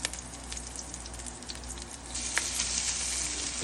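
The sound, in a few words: mustard seeds and chana dal sizzling while stirred in oil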